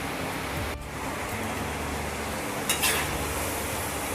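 Potatoes frying in a pan on a medium flame, a steady dense sizzle running throughout with a brief stir or scrape near the end.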